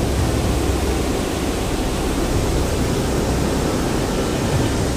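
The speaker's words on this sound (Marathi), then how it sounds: "एकदम फुल स्पीडनं पाणी आहे धरणाला।" Water rushing at full speed through a dam, with water released onward toward Kopargaon and Jaykwadi dam; a loud, steady, broadband roar that holds constant throughout with no pauses.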